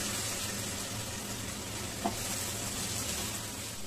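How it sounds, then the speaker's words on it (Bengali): Onions browning in a pan for a beef bhuna khichuri, a steady broadband sizzle with one soft clink of a spoon partway through, close and continuous with nobody speaking. "পেঁয়াজটা দিয়ে আমি এটাকে ব্রাউন করে ভেজে নেব"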